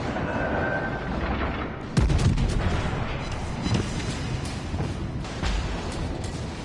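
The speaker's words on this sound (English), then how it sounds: "Somebody's shooting me in the side" Naval shells strike a warship's side in World of Warships Legends, heavy booms and cracking blasts over a dense rumbling battle bed, one sharp impact standing out near the start of the sequence.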